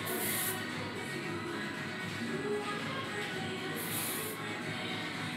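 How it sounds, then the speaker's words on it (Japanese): L16 hard blast hair spray hisses from a can aimed into a section of hair at a salon, two short bright bursts of airy spray over a quiet room, faint and close. "束のこの中にめがけてスプレーを振ってあげます。"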